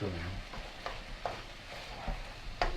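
Risotto is stirred in a pan after parmesan goes in, with a low bubbling simmer and several soft, wet scraping strokes spaced through the moment.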